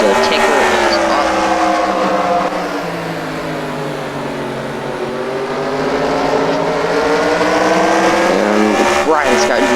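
Racing trucks in a Myrtle Beach 300 truck series race roar past on track, loud, sustained engine drone rising and falling in pitch as they pass, with a race commentator talking over the noise.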